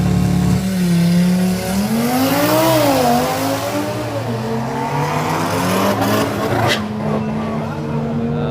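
A drag-strip race car revs and accelerates hard at Killarney, its engine note climbing and shifting through gears, loud and close, with other car noise around it and no talk.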